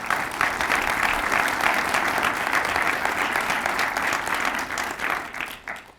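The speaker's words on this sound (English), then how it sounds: "Let's give them a round of applause" An audience at a State of the City address at Reynoldsburg City Hall breaks into sustained, even applause that holds strong throughout and tapers off in the final moment.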